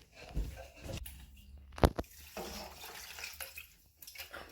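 Water from a tap runs and splashes as something is rinsed in a kitchen sink during cooking, with soft, uneven gushes and trickles, close and fairly quiet, and no voices.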